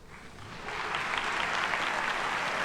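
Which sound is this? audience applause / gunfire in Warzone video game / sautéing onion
audience applause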